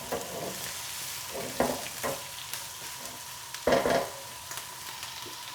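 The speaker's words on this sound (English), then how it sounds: "I'll get these onions to soften down so and brown them a little bit." Onions softening and browning in a pan give a steady low sizzle, broken by a few louder scraping stirs of the spoon, with no voices.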